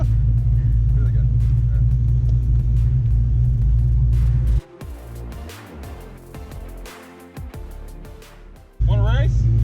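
A 1986 four-eye Foxbody Mustang GT coupe pulls out of a parking lot, its loud, deep engine rumbling close before easing off and revving again, with people talking nearby.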